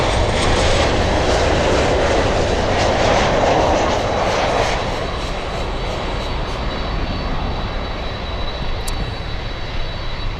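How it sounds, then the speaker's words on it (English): A LATAM Boeing 787 jet flying in to Miami International from the Dominican Republic gives a loud, steady engine roar that swells in the first seconds, then holds as a broad, continuous rumble and hiss with no talk. "We have a 787 LATAM flying in from the Dominican Republic."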